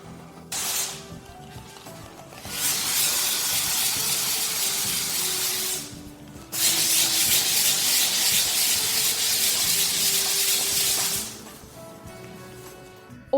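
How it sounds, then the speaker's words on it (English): Light sanding over filler on tiles, heard as two long steady stretches of soft, hissy abrasive rubbing, close and alone, separated by a brief pause. "So I lightly sand, wipe with a cloth to remove the dust"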